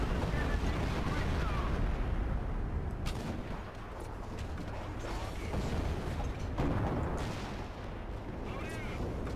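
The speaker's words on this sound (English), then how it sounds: "Just a little high with the main gun there" The Neubaufahrzeug multi-turret tank's main gun fires in War Thunder, two heavy booming shots a few seconds apart over a constant loud rumble of engine and battle noise.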